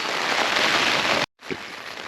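Heavy rain drums steadily on a tent during a solo camping night on top of Kinder, a dense close hiss that briefly cuts out before resuming.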